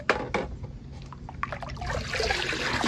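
Milk pours into a curdling cheese mixture while homemade cuajada is prepared, a close liquid trickle and splash that swells into a fuller, steady pour toward the end, with no voices.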